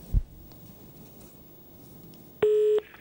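A single clear telephone ring tone sounds near the end, a steady electronic burst of under half a second after a brief thump and quiet room hum.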